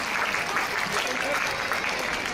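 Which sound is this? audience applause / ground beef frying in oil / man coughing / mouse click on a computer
audience applause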